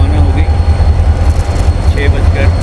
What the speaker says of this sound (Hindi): कराची सर्कुलर रेलवे रवाना हो गई।